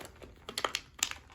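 Lila the puppy crushes a plastic water bottle as she plays, making a few sharp crinkling crunches that come in irregular bursts against a quiet room.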